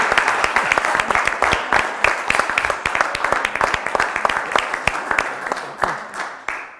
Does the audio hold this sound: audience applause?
yes